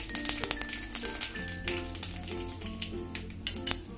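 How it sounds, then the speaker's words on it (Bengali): Dried red chili pieces, whole cumin seeds and bay leaves fry in hot oil with a soft, crackly sizzle and light scattered pops, fairly quiet and close, with a few faint clinks. "এটাকে আমি একটু ভেজে নেব।"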